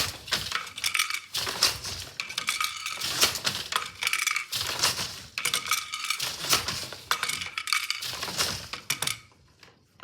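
Tabby weave being worked on a loom, with repeated clacking and thudding bursts of the beater and shafts falling in a steady rhythm roughly every two seconds, close up and with no talking.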